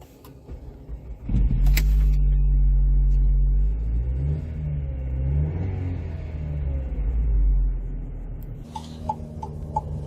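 A 2006 Alfa Romeo Brera 2.2 JTS starts up and pulls away with a steady, low engine drone. The engine rises and falls as it accelerates through the gears, then settles near the end among faint interior clicks.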